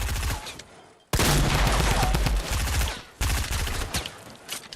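Gunfire in the Fortnite video game: a loud burst of rapid shots kicks in about a second in, with a second volley following a couple of seconds later, dense and close with echoing tails.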